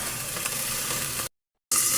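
Cooking oil heating in a pan for pancit gives a steady, close sizzling hiss that cuts off into a brief silence partway through, then resumes louder.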